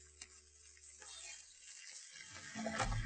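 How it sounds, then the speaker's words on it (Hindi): Tomatoes go into a pan of frying onions, ginger and garlic, bringing a faint steady sizzle with some stirring and a louder hiss toward the end. "उससे पहले कि प्याज हो काली, हम इसके अंदर टमाटर शामिल कर रहे हैं।"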